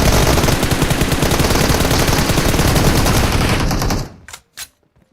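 Rapid automatic gunfire from PUBG Mobile, a loud sustained burst of shots for about four seconds that cuts off abruptly, followed by a couple of faint short pops.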